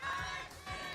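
A large esports arena crowd at the MPL SG Season 7 playoff grand finals cheers and shouts in loud, dense bursts, with a brief dip before the roar swells again.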